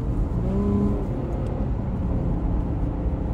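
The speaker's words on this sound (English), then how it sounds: "You hear that V6?" A V6 car engine revs, rumbling steadily with a deep, continuous throaty drone, loud and close, with a slight rise in pitch early on.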